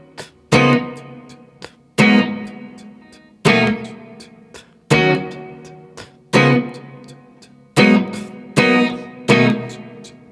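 Electric guitar chords from a song stabbed once at the start of each bar, seven sharp loud hits that ring and decay between them, played alone and close.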